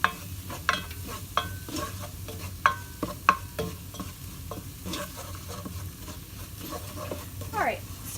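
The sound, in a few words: roux cooking and being stirred in a pan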